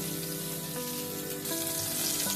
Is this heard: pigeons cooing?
no